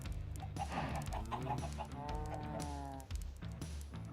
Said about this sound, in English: We gotta do something about these chickens.